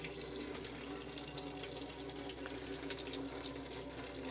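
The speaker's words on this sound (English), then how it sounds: "this is just a video showing that your hot water's working, so making sure the pump's on" Hot water runs from a tap in an Auto-Trail V-Line 636 Sport motorhome, with the water pump on, a steady, continuous splashing stream into the sink, close and even, with no talking.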